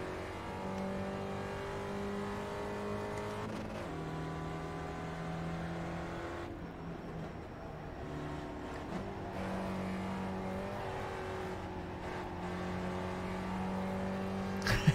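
Race car engine in the video game iRacing, holding sustained revs with shifting pitch through corners and briefly dropping before building again, steady and fairly close throughout.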